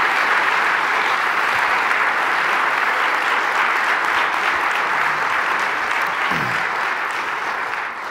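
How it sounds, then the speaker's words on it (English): Sustained audience applause fills a conference hall, thick even clapping from a large crowd that holds steady for several seconds before easing slightly at the end. "Give a round of applause, please."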